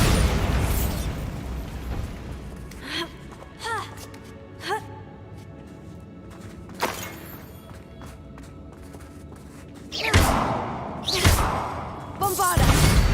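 Bombarda spell explosions in Hogwarts Legacy, several loud bursts and booms at irregular intervals against game music, with a heavy cluster of blasts near the end.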